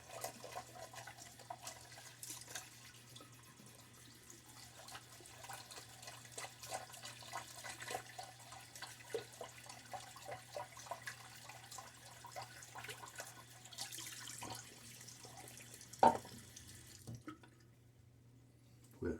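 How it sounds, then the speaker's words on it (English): A shaving bowl and brush are rinsed under a running bathroom tap, a steady soft trickle of water with light splashes and clinks, ending in a brief louder knock before the flow stops. "I'm going to rinse my bowl out. And this also cleans out my brush."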